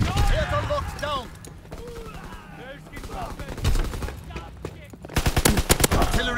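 Rapid bursts of gunfire and machine-gun fire from the Call of Duty WW2 video game, mixed with game voices and effects, swelling into a dense, loud volley near the end.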